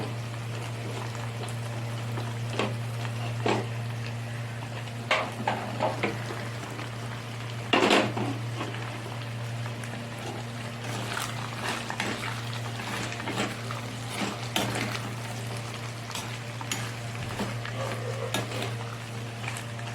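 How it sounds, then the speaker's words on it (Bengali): Cut potatoes and eggplant fry in oil rendered from katla fish, a steady close sizzle with occasional scraping stirs and light utensil knocks, and no one talking. "এবার আমি ওর মধ্যে কোচানো আলু আর বেগুনটা দিয়ে দেব।"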